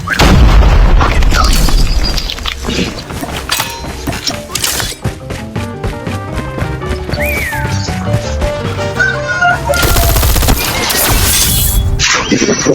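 Grenade explosions and gunfire from a Call of Duty battlefield game: loud booms and crashing blasts hit repeatedly over dense, continuous battle noise throughout.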